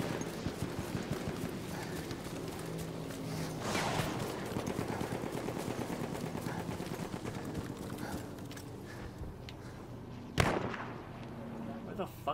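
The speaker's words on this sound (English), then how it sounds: "Where the fuck is he shooting from?" Gunfire in a video game shooter: a dense, continuous stream of rapid shots and distant rattling bursts, with one sharp, louder crack near the end.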